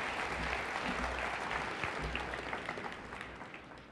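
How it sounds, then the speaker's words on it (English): An audience at a Montana jobs summit breaks into sustained applause, dense clapping that fills the room and slowly tapers over a few seconds. "Let's give a big, big round of applause to Elon Musk."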